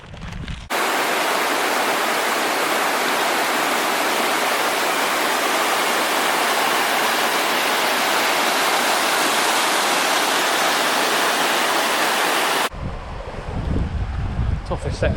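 River rushing beside a rocky forest trail in Beddgelert Forest, Snowdonia, a loud continuous wash of water noise with wind buffeting the microphone, cutting off near the end.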